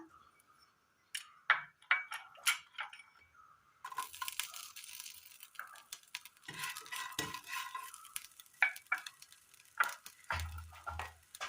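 Sautéed onion and green chilies added to softened tomato in a pan for a quick Kerala curry, with repeated clattering spoon strokes and scraping against the pan over a light sizzle, close and intermittent.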